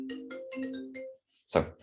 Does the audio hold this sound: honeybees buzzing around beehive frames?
no